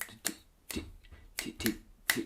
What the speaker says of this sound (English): So this sort of tambourine type sound